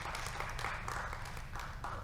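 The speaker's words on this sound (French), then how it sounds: "je pense que ça s'applaudit chaleureusement" Conference audience in a hall gives sustained applause, a steady mass of clapping heard at moderate distance.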